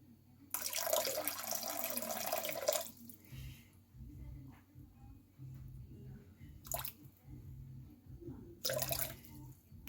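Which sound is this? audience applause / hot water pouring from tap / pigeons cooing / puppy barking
hot water pouring from tap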